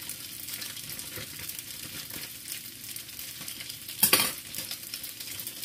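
Instant fried rice tipped into a hot pan and stirred, giving a steady close sizzle and scraping with a louder burst of frying about two-thirds through; no voices.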